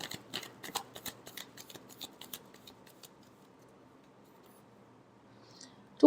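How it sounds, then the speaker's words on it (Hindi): Tarot cards are shuffled in a quick series of crisp riffling flicks and soft slaps over the first couple of seconds, close and fairly quiet, followed by near silence. "Last shuffle."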